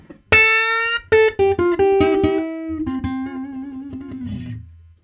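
Electric guitar on its neck pickup played through a handwired '64 Custom Princeton Reverb amp: a struck chord followed by several quick plucked notes and a sustained note that slowly rings out, clean, close and alone.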